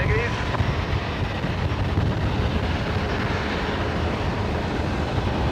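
Steady roar of a Velocity jet airliner taxiing at Brisbane Airport at night, a broad continuous engine rumble heard from a distance with wind noise on the microphone.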